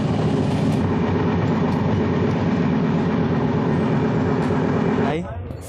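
Howrah–Mumbai Mail passenger train rolling steadily, a continuous loud rumble with rhythmic wheel clatter on the rails, dropping off sharply near the end.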